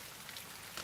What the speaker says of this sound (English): with soft rain falling on tiles